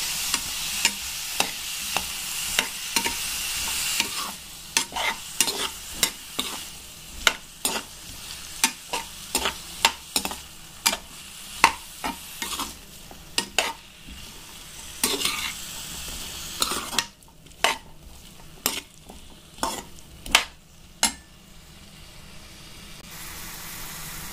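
A spatula stirs bottle gourd in a frying pan for a dal and bottle gourd bhaji, making irregular sharp scrapes and clinks against the metal over a soft, steady sizzle, with no talking.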